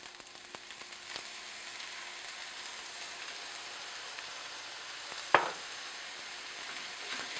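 Quinoa stir-frying in hot oil with tamari gives off a steady, even sizzle and crackle throughout, with one sharp click or scrape partway through.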